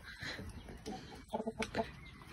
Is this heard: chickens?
yes